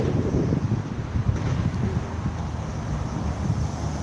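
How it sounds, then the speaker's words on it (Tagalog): Cold wind gusts into the microphone outdoors, a steady low rumbling buffet with no voices. "Malamig ang simoy ng hangin."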